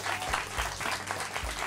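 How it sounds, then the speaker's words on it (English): Audience applause, a steady close wash of many hands clapping that runs throughout without pause. "give them a round of applause"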